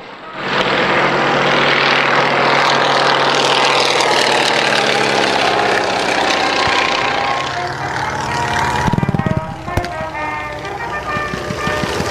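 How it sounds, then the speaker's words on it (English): Engines of WWI triplane aircraft during a reenactment dogfight drone loudly and steadily, with a wavering propeller roar that shifts in pitch as the planes pass, and a brief thump near the end. "they remain under attack from two of the triplanes"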